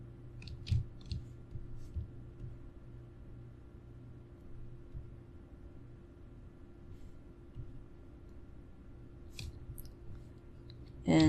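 Faint, sparse computer mouse clicks, a few near the start and another small cluster near the end, over a quiet room hum, with long stretches of near silence while dragging.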